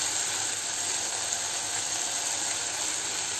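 Okra fries in a pan with masala, giving a steady, close, even hiss that runs unbroken from start to finish with no voices over it.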